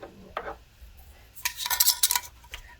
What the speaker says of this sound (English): So a big glob of that. That's a serving spoon.